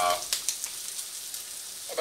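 Tomato paste and paprika frying in a pan, a soft steady sizzle with a few light scrapes or stirring taps, fairly quiet and with no talk.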